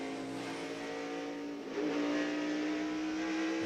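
NASCAR stock cars racing in a tight six-car pack at Watkins Glen in 1997, a steady loud engine drone with a rising pitch partway through as the field passes close.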